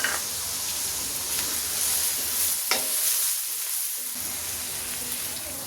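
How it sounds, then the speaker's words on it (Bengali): Onion with a handful of green chillies frying lightly in a pan for a chicken malai kofta curry, a steady close sizzle with hissy spatter and occasional scraping stirs, briefly quieter midway. "পেঁয়াজটাকে আমি হালকা একটু ভেজে নেব"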